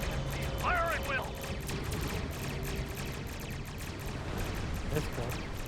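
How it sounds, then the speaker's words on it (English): Starship weapons fire in the Star Trek Online space game: rapid bursts of energy blasts and explosions over a continuous rumbling battle background, with electronic tonal chirps early on. "Concentrate fire on the remaining vessel."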